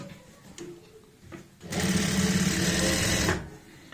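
A sewing machine stitches lace onto a neck design in a single close, steady whirring run of nearly two seconds, preceded by quiet handling clicks and faint rustles.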